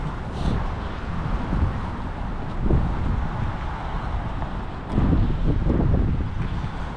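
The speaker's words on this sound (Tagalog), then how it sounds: "Ang lakas ng hangin." Strong, cold Canadian winter wind buffets the microphone in a steady, rumbling roar, with heavier gusts surging around the middle and near the end.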